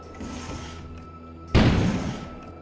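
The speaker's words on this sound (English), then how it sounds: "Sounded like an explosion had occurred in front of the store." A sudden deep boom erupts outside a store in the video game Kôna, a single heavy thud-like blast over a low ambient hum that decays over about a second.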